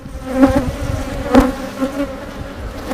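Honeybees buzz in an opened hive during a queen check, a steady close drone with two louder swells as bees pass near, no voices.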